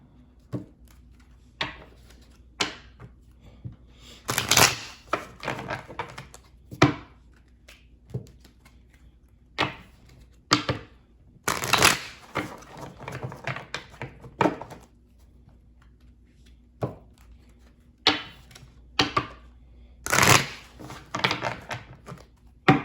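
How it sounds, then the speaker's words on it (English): Tarot cards being shuffled and tapped in irregular bursts, with sharp close riffles and knocks separated by quiet pauses over a faint steady hum. "let's go ahead and get these cards shuffled"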